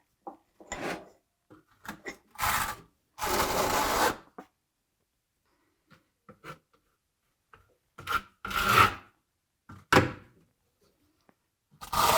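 A trowel rasps and scrapes thinset mortar across a wall for a Bejmat zellige tile backsplash in a home renovation, with close, loud back-and-forth strokes in bursts separated by quiet pauses.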